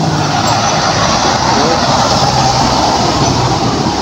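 Loud, continuous road traffic on the Maharlika Highway national road near Lopez and Gumaca, Quezon, a dense rumble of engines and tyres close by with no break, and no clear speech.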